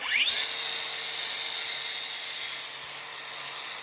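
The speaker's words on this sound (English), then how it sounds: "So we're just gonna grind this up, clean this up a little bit so we don't cut ourselves on it." Power grinder cleaning up the rough edge of a metal ring before welding it to a bracket, a loud steady high whine that spins up quickly and holds for several seconds with no talk.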